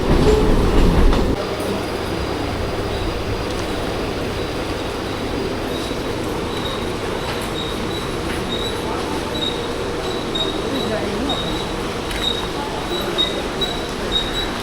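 A train rumbles steadily nearby at Mumbai Central station, with wheels faintly squealing on the rails and a brief clatter at the start.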